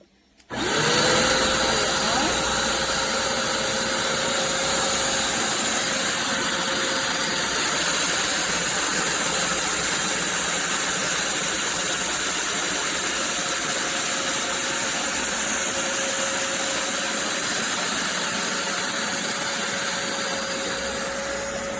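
A BISSELL Revolution HydroSteam pet upright carpet cleaner starts up and runs with a steady, loud motor whine and suction roar, holding constant for about twenty seconds with no talk.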